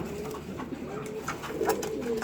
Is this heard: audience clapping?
no